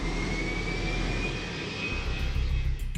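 Airplane engine drone, a steady broadband roar with a faint high whine, holding constant and fairly loud for about three seconds, with a deeper rumble building near the end.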